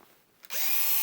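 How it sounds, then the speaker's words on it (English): A power drill bores a screw hole for a cabinet lock, starting after a short pause and then whirring loud and steady up close. "So let's drill the hole."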